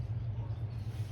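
An old project car's engine cranks over after its coil wire is connected, a steady low churning with a quick rhythmic pulse, loud and close throughout.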